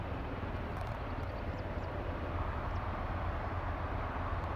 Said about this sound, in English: I only see this helicopter landing on that plane that was taxiing just a few seconds ago